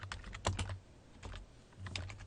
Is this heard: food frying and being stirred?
no